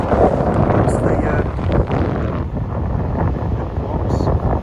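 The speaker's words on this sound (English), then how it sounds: "It is very windy with the tides" Strong wind buffets the microphone at an eroding cliff-lined beach, a steady loud roar of broadband noise filling the whole clip with only brief lulls.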